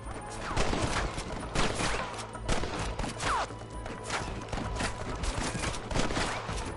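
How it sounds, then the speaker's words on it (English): Rapid, irregular gunfire crackles through a Red Dead Western shootout, many overlapping shots from several guns at varied distances in a sustained fusillade. "Good shooting, boy!"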